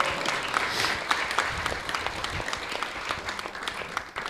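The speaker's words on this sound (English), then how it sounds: "So let's please give them a big round of applause." Steady applause from a temple audience at a Sunday gathering, many hands clapping densely and evenly throughout at moderate loudness with no speech over it.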